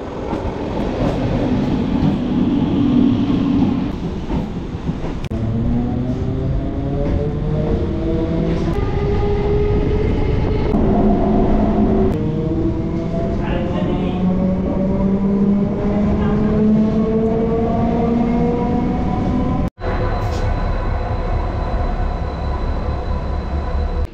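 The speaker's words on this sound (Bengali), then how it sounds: "এই সবেমাত্র 10টা 51-র সময় ট্রেনটা ঢুকছে।" A train rolls into a station platform with a loud, continuous roar and the rumble of wheels, while rising and falling tonal squeals from braking carriages sweep across it, ending in a sharp short jolt near the close.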